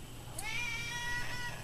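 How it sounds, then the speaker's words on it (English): A cat gives one drawn-out meow, clear and close, rising then holding a wavering tone over a low background hum. "Listen to this cat interrupting again."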